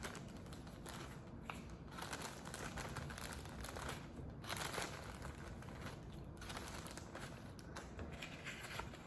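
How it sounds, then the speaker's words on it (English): Small plastic bag of craft cutouts crinkling and rustling as pieces are pulled out, a steady close-up scrunching texture that runs throughout with no talk over it. "you're going to take everything out of the bag."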